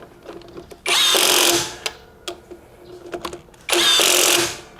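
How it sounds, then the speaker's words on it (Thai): A WADFOW WCD15121 cordless impact wrench, rated at 300 newton-metres, tightens in high mode. It fires in two loud, close, hammering bursts of about a second each, with quieter clicks and handling noise between them. "ไขเข้าเนี่ยผมเปิดโหมดไฮเลยก็ได้นะครับ นะแล้วก็ให้มันกระแทกไปนิดนึงนะครับ"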